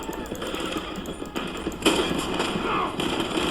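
Gunfire in Red Dead Redemption 2 during a fight over a stagecoach, rapid overlapping cracks and bangs at irregular intervals over a rumbling, busy background.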